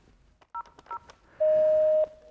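A telephone call is placed: two short keypad tones, then a longer steady tone of about half a second, fairly clear against a quiet background.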